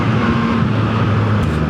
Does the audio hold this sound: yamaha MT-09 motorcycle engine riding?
yes